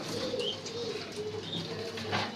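Young pigeon squabs in a loft cooing softly, with low murmuring coos and faint chirps and wing flutters over a quiet background, no talking.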